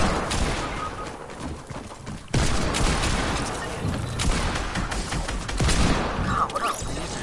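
Dense, loud gunfire from a shooter video game, with repeated bursts of shots and a sharp jump in loudness partway through, and no talk over it.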